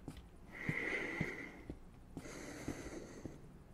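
A video game character breathes heavily, with two long drawn exhalations separated by short sniffs and clicks, quiet and close without any talk.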